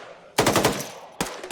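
Sustained suppressive machine-gun fire from an automatic rifleman in the military game ArmA 3: a loud, close burst of rapid shots, a short pause, then another burst starting.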